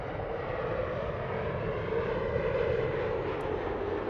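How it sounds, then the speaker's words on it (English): Boeing Dreamliner passing low overhead near Los Angeles airport, a dense, even jet-engine roar that stays loud and close for the whole stretch and peaks slightly midway. "This is only possible because that Dreamliner is flying so low to the ground right now."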